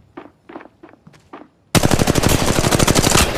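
Automatic weapon fire in the mobile shooter Apex Legends Mobile: a few soft thuds, then a loud sustained burst of rapid shots at close range.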